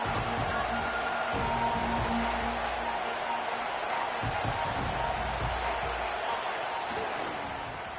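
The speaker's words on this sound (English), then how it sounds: "Listen to the crowd energy here in the early going." Broad, continuous roar of a stadium crowd early in a college football game between USC and Michigan, a dense wash of voices from a large distant audience with a few faint thumps mixed in.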